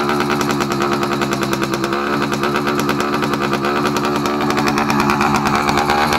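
A race motorcycle engine idles fast with the choke on, a loud, close, rapid pulsing rattle that runs continuously without a break.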